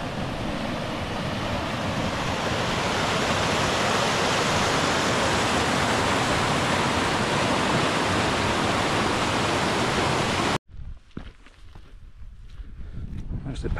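Freshwater river flowing down into the sea on a remote Scottish coast in winter, a dense constant rushing roar that cuts off abruptly near the end, leaving faint wind and rustling.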